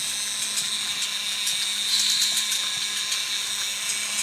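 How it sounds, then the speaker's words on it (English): The failing steering servo of an HSP 1/10 brushless RC monster truck gives off a loud, continuous high-pitched whine with small flickering pulses, steady throughout and close by. "it's the servo over here has gone, and it's making this quite a loud sound"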